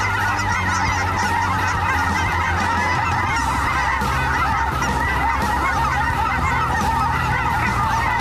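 A huge flock of geese, close to a thousand birds working over hunting decoys, honks in a dense, continuous, overlapping clamor, loud and near, with no talking.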